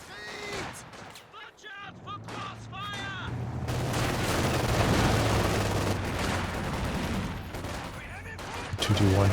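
Armored car machine gun fire in Company of Heroes 2, a 221 scout car shooting at low-health infantry squads in a 2v2 match, rattling as sustained loud bursts amid battle noise and explosions under continuous commentary.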